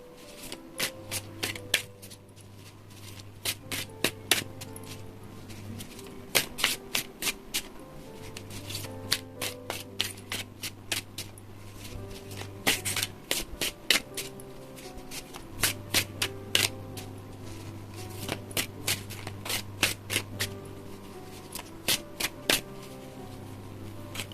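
Tarot and oracle cards being shuffled by hand, a steady run of crisp riffling flutters and soft slaps repeating close up over a low hum, with no talking.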